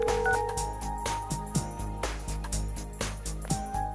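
Unanswered phone call ringing in the video game Persona 4 Golden, a steady electronic ringback pulse repeating over a layered in-game music bed, with no talk.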